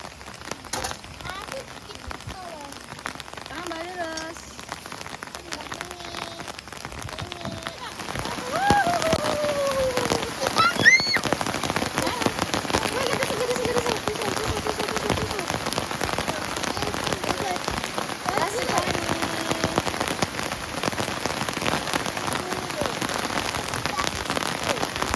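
Steady rain drums on a car roof and windows during family camping in the rainy season, a dense close patter that grows louder partway through, with faint voices underneath.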